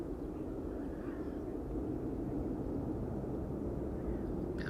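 A Hainan Airlines Boeing 787 flying from Brussels to Shanghai, a steady low rumbling jet roar at moderate distance, continuous and even throughout.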